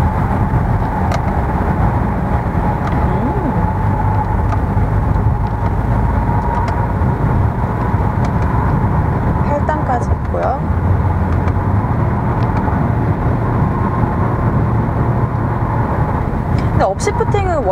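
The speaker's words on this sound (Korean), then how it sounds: "자 일단 패들시프트를 한번 사용을 해볼게요" A Kia Sorento with a diesel engine drones steadily from inside the cabin, its pitch rising and falling as the paddle shifters change gears, with someone talking throughout.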